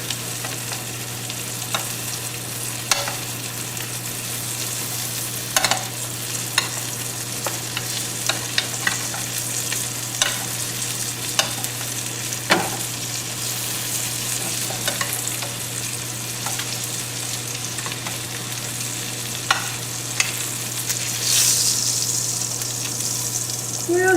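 Lamb chops fry with garlic in a pan, a steady sizzle running throughout with occasional sharper crackles and pops, close and moderately loud, with no talking.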